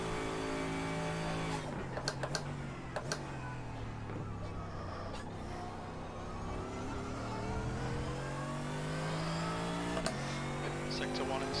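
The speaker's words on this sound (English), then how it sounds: "Noise of this car is wonderful though" A race car engine in iRacing revs and drops through gear changes, its pitch sweeping down and climbing again, with faint intermittent clicks and a moderate, somewhat distant tone.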